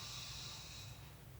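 A slow, deep exhale during a calm breathing exercise, a soft airy breath that fades gradually.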